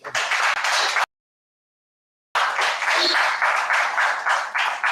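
An audience at a climate hackathon launch event gives a dense round of applause, loud and close, cut by a sudden stretch of silence before the clapping resumes.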